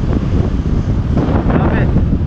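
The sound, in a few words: cool breeze of wind by a river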